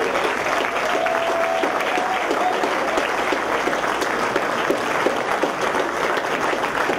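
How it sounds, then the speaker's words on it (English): An audience at a student video game presentation gives a game team a loud, continuous round of applause, dense clapping held steady throughout. "we'll give them a nice applause for them"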